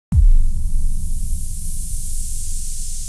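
A synthesized kick from a Vital preset hits once with a deep low thump, followed by a long, loud hiss of white noise that slowly fades, alone.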